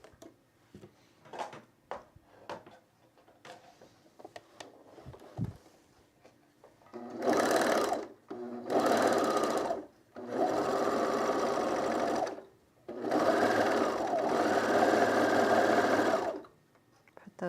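A home sewing machine stitches the inseam of summer pants in four loud bursts separated by short pauses, following a stretch of quiet fabric handling and faint talk.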